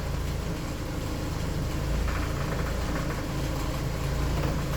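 A 1988 Honda Accord engine idles steadily with a low, continuous hum, and faint power steering noise may be mixed into the running engine. No one speaks.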